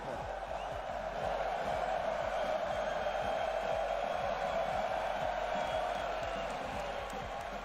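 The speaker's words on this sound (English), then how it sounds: "It is so loud in this venue, and the players can absolutely feel that" A packed esports venue crowd at a Rocket League match roars continuously, a dense, loud wall of cheering and shouting that holds steady throughout.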